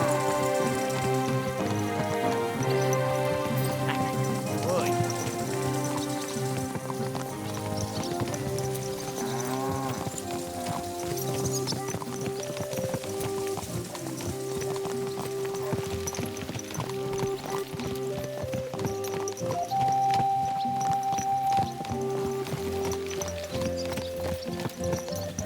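Horse hooves clip-clop steadily throughout in the video game Kingdom Come: Deliverance 2, a rhythmic trot heard beneath continuous music.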